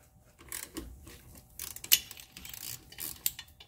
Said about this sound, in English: Grab your 14mm and crank this guy loose. Then go ahead and do the top one.